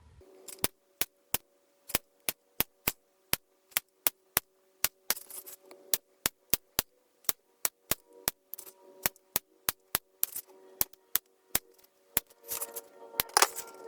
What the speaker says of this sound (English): we're going to make little snips only on the base strip, not the base, 1/4 inch in, 1/4 inch apart